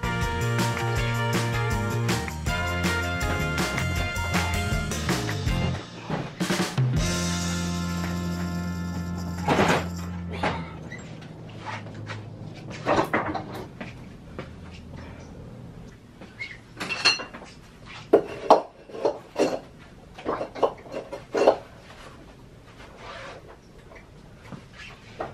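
A Harley Sportster motor is pulled out and set on a table amid metallic clanks, knocks and scraping, with a sustained ringing tone early, then scattered sharp bangs and thuds of heavy metal parts being handled.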